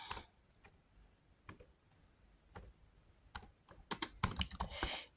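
Fingers typing comments on a computer keyboard, scattered quiet key clicks that build into a faster, louder burst of taps near the end, close up with no talk.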